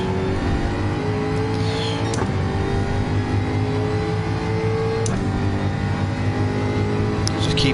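A Ford Group 3 race car in Gran Turismo 7 drones loudly and steadily at high revs, with a couple of brief gear-shift breaks while it chases in another car's slipstream.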